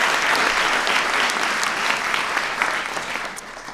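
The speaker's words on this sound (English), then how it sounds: "So give them a big round of applause." A White House science fair crowd breaks into loud, sustained applause, a thick wash of many hands clapping at once that stays strong and eases slightly toward the end, with no one speaking.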